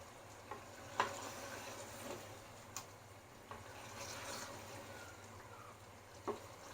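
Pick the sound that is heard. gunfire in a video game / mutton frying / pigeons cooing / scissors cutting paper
mutton frying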